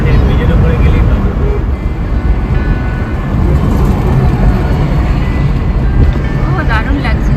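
A train passes near the Jalangi river bridge in Nadia, a loud, close, continuous rumble and roar that holds steady throughout without a break.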